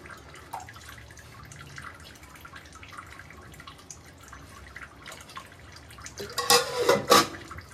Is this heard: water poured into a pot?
yes